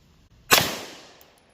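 A single sharp pistol shot from a 4.35 inch barrel fired over a chronograph, close and loud, with a quick decaying tail and a faint click afterward.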